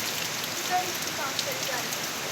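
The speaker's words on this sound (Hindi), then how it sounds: "बारिश इधर इतनी तेज़ आई है, और इतनी तेज़ है, बहुत तेज़।" Heavy rain pours steadily as a dense, hissing wash, with scattered drops pattering on a surface nearby.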